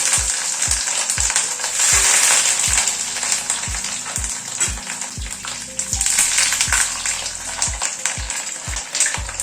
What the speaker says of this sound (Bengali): কড়াইতে সাদা তেল বসিয়েছি, তেলটা গরম হয়ে এসছে, চপগুলো ছেড়ে দিচ্ছি।